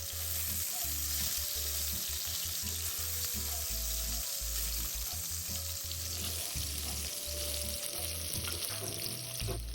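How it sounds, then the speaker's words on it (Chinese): Fish cake frying in hot oil in a wok over medium heat, a continuous crackling sizzle with a low rumbling hum underneath, steady and fairly quiet throughout. "油热后，再加入鱼饼煸一煸香。"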